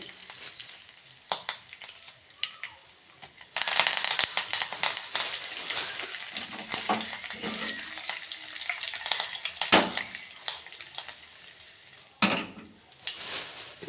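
Curry leaves hit hot oil in a pan with a sudden burst of loud sizzling and crackling, settling into steady frying hiss with a few sharp spits and pops, no talking.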